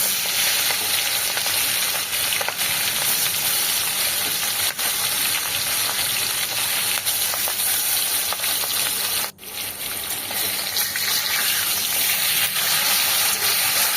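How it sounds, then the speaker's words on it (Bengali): Hilsa fish pieces fry one by one in mustard oil in a kadai, giving a loud, continuous close-up sizzle with faint spatters and a brief dip near the end. "আর এদিকে কড়াইতে সর্ষের তেল দিয়েছি, এক এক করে মাছগুলো আমি ভেজে নিচ্ছি।"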